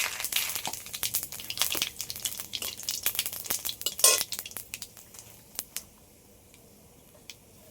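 Cumin seeds and a bay leaf hit hot oil for tempering, giving a crackling sizzle with busy spatula scrapes and clinks of a pan, the frying settling to a quieter hiss near the end.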